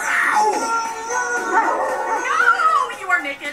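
Animal howling in the Zootopia animated trailer, a drawn-out wavering canine-like howl with rising and falling yips, loud and close, sustained for several seconds.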